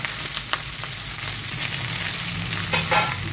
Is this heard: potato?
yes